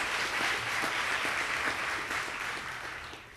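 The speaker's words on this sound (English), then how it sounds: "let's give you a round of applause" Sustained applause from an audience at a Jacksonville business event, dense steady clapping that stays loud throughout and tapers slightly at the end.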